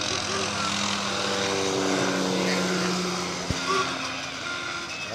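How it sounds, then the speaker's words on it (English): A helicopter passes overhead during a harvest home parade, its rotor and engine drone steady and moderately loud, partly masked by crowd and traffic noise, with a brief sharp knock near the end. "Here comes the helicopter again. You may not see it, but you can hear it."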